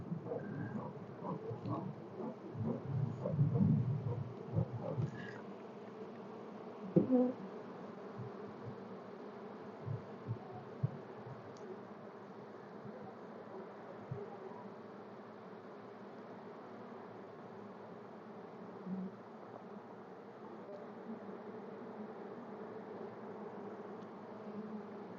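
Agitated honey bees swarm around an opened hive full of honey, a steady dense drone of many wings close by, swelling at times with nearer buzzes passing the ear.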